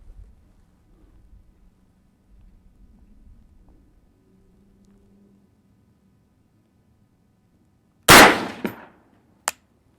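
A single rifle shot from a 224 Valkyrie firing factory ammunition cracks out sharply after several seconds of quiet outdoor hum, followed by a short trailing echo and a small metallic click moments later.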